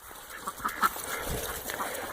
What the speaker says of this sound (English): There's a big old Muscovy, he's called.